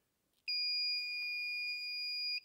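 A multimeter continuity test gives one steady, shrill electronic beep that holds for about two seconds and then stops, loud against a quiet background.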